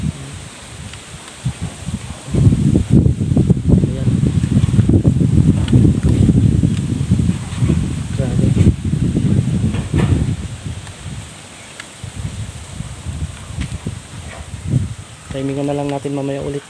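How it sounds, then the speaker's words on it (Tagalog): Strong gusts rustle leaves at a small campsite in a continuous loud whoosh, buffeting the microphone, with a voice briefly heard near the end. "Napakalakas pa rin ng hangin."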